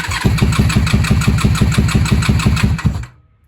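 A Honda Magna V45 VF750C motorcycle fires up and its V4 engine runs with a loud, steady, rapid chugging pulse close to the listener, then cuts off abruptly after about three seconds.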